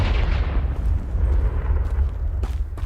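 In the Hogwarts Legacy game, a Confringo fire spell lands as a loud, rumbling fiery blast that fades into a crackling roar, with a few sharp pops toward the end.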